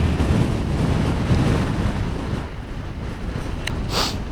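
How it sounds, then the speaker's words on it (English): Strong wind roars and buffets across a high mountain trail in Iceland, a loud continuous rumble of gusts battering the microphone, easing slightly then swelling again. "It's freaking windy up here."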